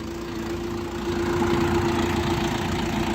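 An Orion RF 404 reverse tractor engine idles steadily with a low, even rumble and a constant hum, growing slightly louder partway through, with no voices.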